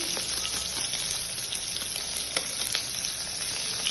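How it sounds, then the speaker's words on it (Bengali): Hot oil sizzles and crackles steadily in a wok as a hilsa fish head fries, with a few sharper pops over the continuous frying hiss. "কড়াইতে তেল গরম হচ্ছে, একটু ভেজে নেবো মাছের মাথা"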